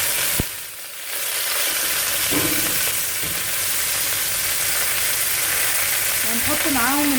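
Rabbit pieces frying in a pan for a molokhia dish, a steady loud sizzle with scraping and clinks as the pieces are flipped over, no talking.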